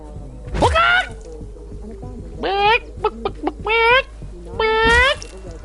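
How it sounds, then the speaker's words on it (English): A chicken in the video game Atomic Heart gives several loud, close clucks and squawks in short bursts, separated by brief pauses. "I wonder if I can kill the chicken."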